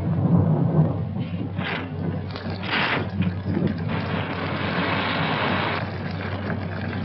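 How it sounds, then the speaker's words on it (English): A thunderstorm rages outside, heard as deep rolling thunder over a constant wash of rain and wind that stays loud and steady throughout, with no voices. "I think it would be foolish to go out in such a storm."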